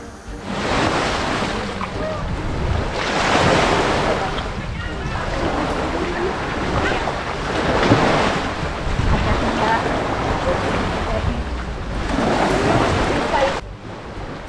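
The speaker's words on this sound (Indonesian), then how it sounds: "saat ini ombak sedang pasang-pasangnya" Rough high-tide waves surge and break in steady, recurring swells off Pulau Pamanggangan, a separated island village in Desa Matiro Matae, mixed with heavy wind buffeting a nearby microphone, loud and continuous with no clear speech.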